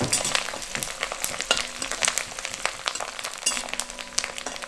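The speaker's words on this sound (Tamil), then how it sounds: "சோ இப்ப கருவேப்பிலை நல்லா பொரிஞ்சிச்சு வரமளகாவும் கொஞ்சம் வதங்கிருச்சு" Curry leaves and dried red chillies frying in hot oil, a steady close crackling sizzle dense with popping spatters and occasional stirring sounds, loud throughout with no talk.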